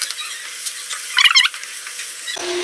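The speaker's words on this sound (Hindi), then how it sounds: "मसाले को अच्छी तरह हम भून लेंगे चिकन के साथ।" Chicken sizzles in a pan with cumin, dried coriander and spices for a karela chicken curry, a steady fizzing hiss broken midway by a brief scraping stir, then dropping to a lower, softer crackle.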